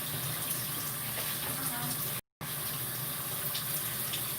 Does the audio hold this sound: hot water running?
yes